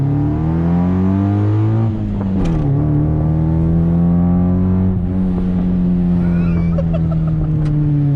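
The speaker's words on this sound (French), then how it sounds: "Ah, et le petit pétement à l'arrière" A Honda Civic EC9 engine revs hard, heard loud and close from inside the car. Its steady drone rises and falls, and a few sharp exhaust pops come through.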